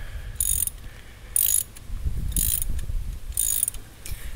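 Close-up ratchet wrench working loose a spark plug, with bursts of rapid clicking pawl ticks in four short spells separated by quieter turning, with no voices.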